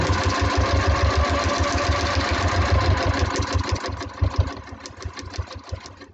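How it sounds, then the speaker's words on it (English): A sewing machine stitches across a seam allowance on a foundation paper pieced block, a loud, close, rapid mechanical chatter that runs steadily and then slows into a few uneven bursts near the end. "I've sewn all the way across through this seam allowance on the outside edge"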